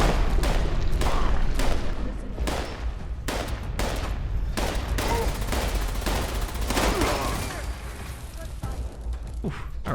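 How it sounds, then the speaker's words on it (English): Fireworks in the video game Fallout 76, a run of loud bursts and cracking pops fired in quick irregular volleys that thin out slightly toward the end, with game ambience underneath. "Objective, watch the fireworks."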